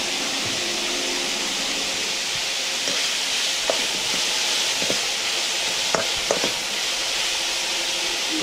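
Chopped onion fries in a pan for egg bhurji, browning to a reddish colour: a constant loud hiss of oil with a few sharp scrapes and taps from stirring near the end.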